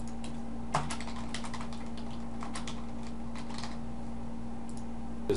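Steady clatter of keys on a computer keyboard, irregular quick taps over a low constant hum, no voices.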